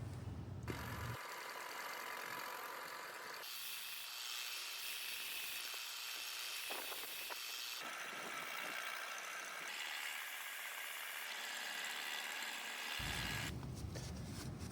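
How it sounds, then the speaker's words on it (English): A continuous abrasive grinding hiss from a belt sander with an 80 grit belt shapes an epoxy knife handle, shifting in pitch and intensity as material is pressed against it, with the motor whirring underneath. "we'll take it over to the belt sander again, and we'll hit it with the 80 grit belt"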